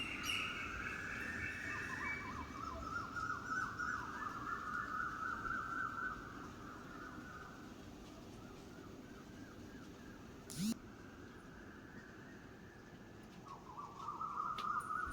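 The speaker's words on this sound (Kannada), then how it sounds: "ಪಕ್ಷಿಗಳ ಸೌಂಡು ನಮ್ಮನೆ ಹತ್ರ ಅಂತೂ ಡೈಲಿ ಇದೇ ಥರ ಇರುತ್ತೆ." Faint birds call before dawn in long, repeated whistling phrases that rise and fall, over a steady low hum, with one brief sharp knock partway through.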